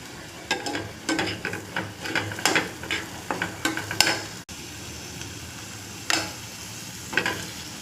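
Moth beans tipped into a pan of fried masala paste and stirred, with a run of soft scraping, clattering spoon strokes over a faint sizzle, then a pause and a few more stirs.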